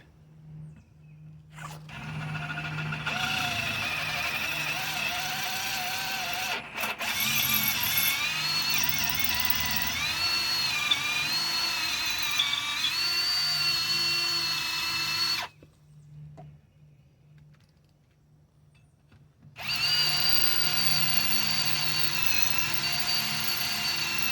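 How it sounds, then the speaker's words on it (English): A power drill whines steadily with a grinding, ratcheting edge as it bores a small pilot hole in a seized brake drum on a Chevy P30 van chassis, close up, pausing briefly before starting again. "I just like to always drill a small hole first."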